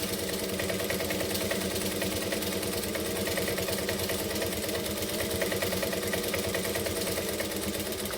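A sewing machine stitches Pacifica vinyl for a saddle bag, running at a steady, consistent speed with a fine rapid needle pulse from start to finish, unbroken by any voice.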